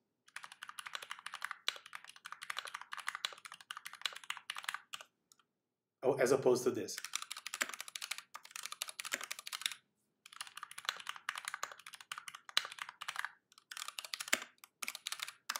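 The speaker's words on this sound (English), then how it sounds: "I have a board here with the lubed Zelios. So again, this is not lubed, and this one is lubed." Fingers type on mechanical keyboards fitted with Zelio switches, first unlubed and then lubed. The keystrokes come as dense, close clatter in several runs separated by short silences, and a voice speaks briefly partway through.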